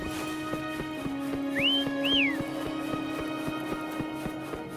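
Two rising-then-falling whistled calls ring out over steady hoofbeat-like clip-clop and a low hum while summoning the horse Foam in the video game Wuthering Waves.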